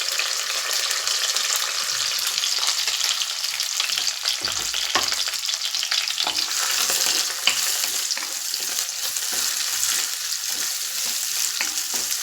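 Small shallots with green and dried red chillies fry in hot oil for a crab pepper fry, a steady loud sizzle with occasional scrapes of a spoon stirring the pan, close up and without talk.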